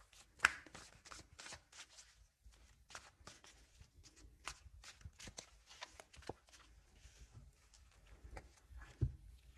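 A deck of cards is shuffled during a tarot reading, with quick, soft riffling and tapping bursts repeated close by in an otherwise quiet room.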